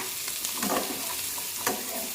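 Carrots with turmeric powder stirred in a pan, a steady sizzle with a couple of scraping stirs, close and moderately loud, with no voices.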